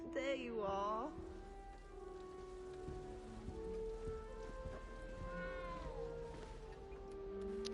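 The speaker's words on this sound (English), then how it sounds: "I hear that cat still in the background" A cat meows a few times near the start in Hogwarts Legacy, high and wavering, then quieter meows drift in later over a steady background hum with a faint tonal drone.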